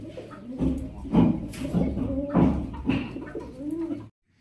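Pigeons kept on a farm coo loudly and close, several throaty rolling coos in quick succession, with no other sound behind them.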